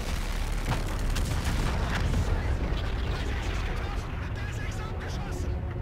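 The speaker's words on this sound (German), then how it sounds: "Sämtlichen Beschuss auf diesen Superträger konzentrieren" Heavy gunfire and booming blasts roll continuously during an attack on a super carrier in Call of Duty: Infinite Warfare, a dense wall of low rumbling explosions and shots with voices talking over the din.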